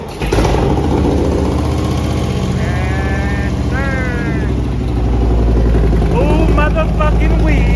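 A Harley-Davidson Road Glide engine fires up after a long idle, settling into a loud, steady rumble close by for the whole stretch, while people talk and whoop over it.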